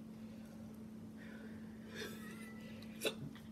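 A person eating a hot dog gives a couple of soft hiccups, one sharper and louder near the end, over faint background hum with no talking.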